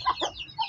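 A hen gives a few quick, close clucks in a short burst.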